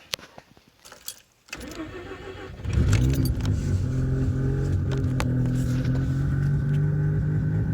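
An old rotary car engine that has sat for a long time cranks over after some faint clicks and keys. It then catches and settles into a loud, steady idle with a buzzing, even drone close by.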